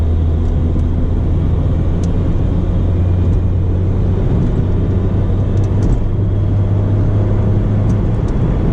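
A 2004 Saturn Ion Redline in 5th gear at full throttle from about 60 mph, giving a steady loud low engine drone with road rumble inside the cabin.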